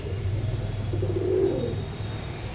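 Pigeons in a loft, kept as Pakistani breed birds, cooing softly in low murmuring bursts with a faint swell midway, fairly close in a quiet room.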